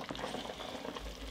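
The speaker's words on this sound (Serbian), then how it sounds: "Povremeno ovako s vremena na vreme okrenete na drugu stranu i krčkate" Meat stewing in a covered pot with only a little water, giving a steady close bubbling and gentle sizzling hiss that holds evenly throughout, with no talking.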